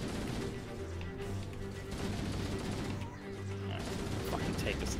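Gunfire in Halo: Combat Evolved Anniversary co-op, a run of rapid shots and bursts layered over a low droning game backdrop at moderate level, with speech blended in.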